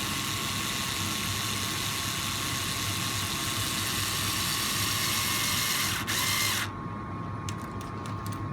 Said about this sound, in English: Now we can replace the screw.